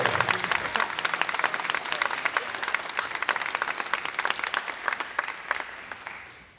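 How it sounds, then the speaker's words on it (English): A school concert audience claps for a string ensemble, the thick, even applause holding steady for several seconds before tapering off at the end. "And another big round of applause for the string ensemble"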